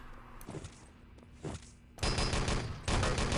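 Rapid gunfire in the shooter game Enemy Territory during a 3v3 LAN tournament match, with scattered distant shots and then a dense, loud burst of automatic fire close by near the end.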